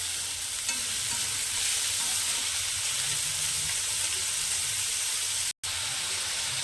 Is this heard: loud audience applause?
no